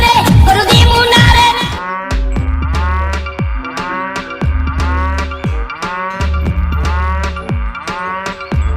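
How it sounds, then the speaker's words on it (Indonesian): A spotted cow moos several times in a steady series after a short burst of other sound at the start, close and fairly loud, with repeated low calls across the clip. "Wow, seekor sapi belang."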